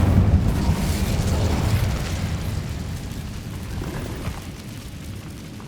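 The Incendio fire spell cast in Hogwarts Legacy, a loud close whooshing burst of roaring flame that rumbles and slowly fades over several seconds.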